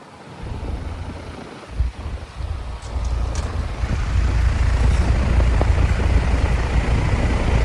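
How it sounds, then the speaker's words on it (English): A 2022 3-ton Trane XR14 heat pump with an LG scroll compressor runs outdoors, a steady low rumbling hum that builds and settles into a constant drone, with no talk. "It's got a LG scroll compressor. That one's also running."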